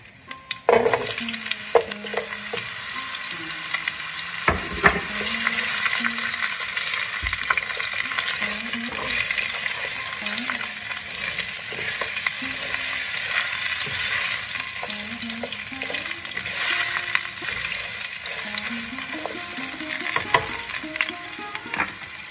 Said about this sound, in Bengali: আলুটা ভাজতে দিলাম।